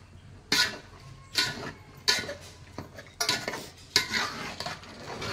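Chicken masala in a pot on a wood-fired chulha in Konkan is stirred with a metal spoon, giving about six sharp scraping clanks at a steady rhythm, close and clear over a faint sizzle.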